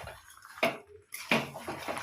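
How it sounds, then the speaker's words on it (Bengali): A spoon scrapes and clinks against a pot while fried potatoes are stirred into thick mutton curry, two distinct stirring strokes close by. "আলুটাকে একটু মিশিয়ে নেব।"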